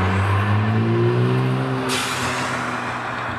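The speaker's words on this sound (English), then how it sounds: "Got a blow up valve on it, makes a nice little turbo whoosh every time you left throttle." A turbocharged car engine hums and revs, then a sharp airy blow-off valve whoosh bursts in as the throttle lifts, fading into a steady hiss.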